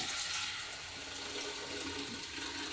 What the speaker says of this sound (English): Then I fill up, like I said, about 1 liter's worth of water in this container.